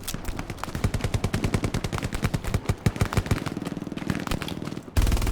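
Sustained bursts of machine gun fire in the World War II shooter Hell Let Loose, played in a competitive match: rapid, loud rattling reports over several seconds, then an abrupt stop.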